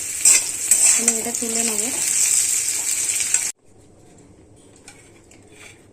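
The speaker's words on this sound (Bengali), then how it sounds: "ভাজা হয়ে যাচ্ছে" Kohlrabi sizzles as it fries in a kadai for a kohlrabi and prawn dish. The frying is loud and close for a few seconds before it drops sharply to a faint hiss, and a brief voice speaks over it.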